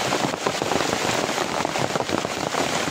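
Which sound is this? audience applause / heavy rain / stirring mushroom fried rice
heavy rain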